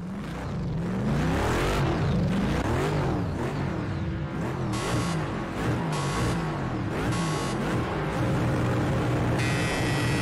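Race cars launch from the start at Monza in Project Cars 2. Dense, loud engine noise revs and climbs through the gears, with cars whirring past and repeated bursts of hiss, and no talking.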